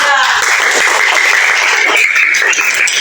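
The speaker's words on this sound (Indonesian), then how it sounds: "kita beri tepuk tangan dulu untuk kelompok 3" Classmates clap for a student group after it presents its discussion results in a school lesson, a dense continuous patter of hands filling the room at steady loudness, with voices faintly underneath.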